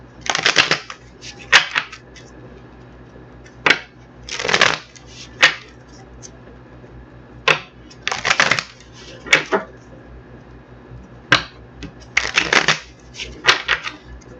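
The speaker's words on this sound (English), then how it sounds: "Get each one shuffled up and see what's cracking." Bursts of tarot cards being shuffled, riffled in several short rustling runs with pauses between, close and fairly clear, no talking.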